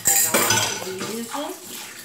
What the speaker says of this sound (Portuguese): estamos aqui na pia com louça, como sempre. Vamos lavar a esponja.